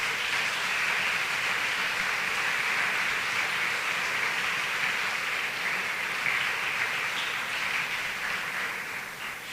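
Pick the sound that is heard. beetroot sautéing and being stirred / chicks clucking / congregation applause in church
congregation applause in church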